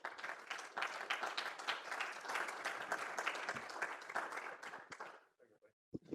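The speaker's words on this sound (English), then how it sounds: "can we give a round of applause for Mark Rees?" Applause for presenter Mark Rees at a conference talk, a dense room-wide clatter of many hands that holds steady for about five seconds, then thins into a few scattered last claps.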